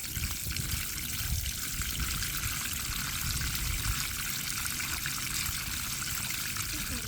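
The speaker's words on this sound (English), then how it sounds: "So what I need to do now is give it a really good soak." Water pours steadily and splashes onto soil to soak a newly planted apple or fig tree outdoors, a continuous loud rushing wash with no pauses.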